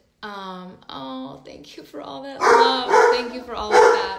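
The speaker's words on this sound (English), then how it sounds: "Sorry about my dogs." Several dogs barking and yipping in a room, loud sharp barks stacking up toward the end while someone speaks over them.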